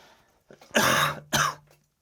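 Two harsh, close coughs from a chronic cough in quick succession, the second shorter, with quiet room tone around them.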